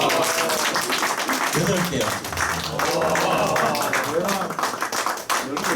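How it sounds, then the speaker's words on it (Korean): Teachers clap for the quiz winners in a school ultrasound quiz review session, with scattered clapping running beneath a voice announcing results. "박수 크게 쳐"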